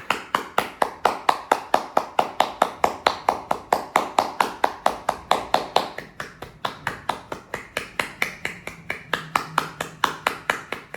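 Hands clapping steadily during a yoga breathing exercise, about forty sharp, evenly spaced claps close by, briefly pausing near the middle before continuing, with no talking.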